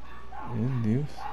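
A dog in the video game Genshin Impact gives a single drawn-out, wavering yelp or whine at close range, with faint background game sound around it.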